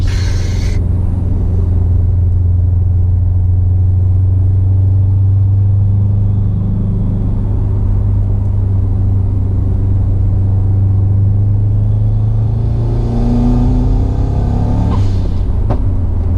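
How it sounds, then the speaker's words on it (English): A Subaru WRX STI with a Grimmspeed intake droning loudly and up close, then revving so the intake roar climbs in pitch near the end. "Intake, when it sucks the air, it's so loud. The Grim speed intakes, they're just monstrosity."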